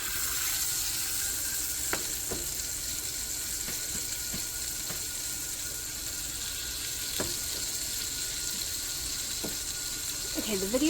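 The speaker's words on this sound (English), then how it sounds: "so I'm going to fry these real fast" Food frying in a pan, a steady loud close sizzle throughout with occasional faint clicks and taps, and a brief squeaky sound near the end.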